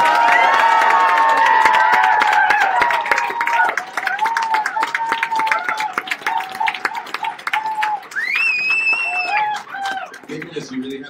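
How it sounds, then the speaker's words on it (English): Enthusiastic applause from a homecoming event audience, loud sustained clapping with cheers and whoops rising over it, close and crowded, continuing throughout. "Please thank them now with over the top applause."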